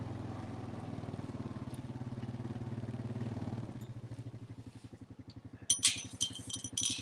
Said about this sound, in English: Hop on the four-wheeler with me.